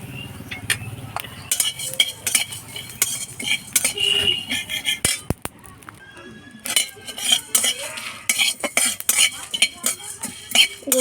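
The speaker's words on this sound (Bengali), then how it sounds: "একটা শুকনো লঙ্কা কড়ার মধ্যে দিয়ে ভেজে" Whole cumin, coriander, fennel and a dried red chilli being dry-roasted in a wok, with a spatula or spoon repeatedly scraping and clinking against the metal in irregular bursts, close and fairly loud, with a short pause midway.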